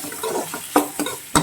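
Onions sautéing in a pan for onion egg gravy, a close crackling sizzle broken by several sharp stirring scrapes of a spatula against the pan.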